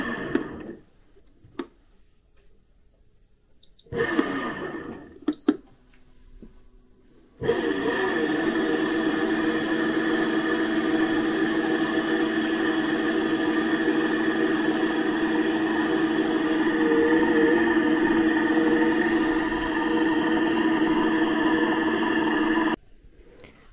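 Home oil press machine running in reverse while pressing hemp seeds and a salad seed mix, a few clicks and button presses, then a steady droning motor hum that holds for about fifteen seconds before cutting off.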